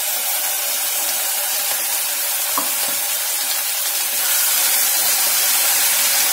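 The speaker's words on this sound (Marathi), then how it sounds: "आता आपण याच्यामध्ये ही जी ग्रेव्ही आपण बनवलेली होती ती टाकणार आहोत." Hot pan of kaju curry gravy sizzling steadily after being poured in, a continuous bright hiss and crackle that grows slightly louder toward the end, with no talking.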